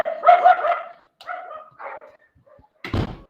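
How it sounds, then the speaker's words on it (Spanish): Several dogs bark nearby in short separate bursts of yips and barks, with pauses between them and a sharp thud near the end. "Tengo todos los perros acá ladrando"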